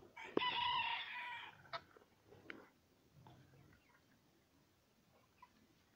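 A Wyandotte rooster crows loudly up close, followed by a few scattered clucks and soft farmyard noises fading into quiet.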